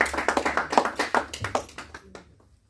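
A church congregation applauds the Lord, loud rhythmic clapping that slows and fades to silence over a couple of seconds.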